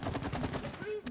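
Rapid bursts of honey gun fire in the video game It Takes Two, a quick run of punchy repeated shots followed by a rising tonal blip, loud and close.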